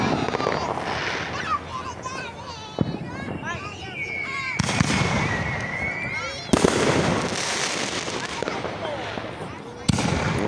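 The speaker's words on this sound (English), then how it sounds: "even my camera quality can't stand the greatness of these fireworks" Fourth of July fireworks bursting nearby, several sharp bangs and crackling explosions spaced a few seconds apart over a steady din of crowd noise and voices.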